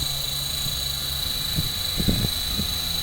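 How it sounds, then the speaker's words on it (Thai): A remote-controlled helicopter's rotor blades whir as a steady, continuous drone, holding a constant high tone throughout with a few faint low knocks near the end. "ฟังให้ เสียงใบพัดให้หมุนให้สุดเสียงก่อนนะครับ ฟังนะครับ"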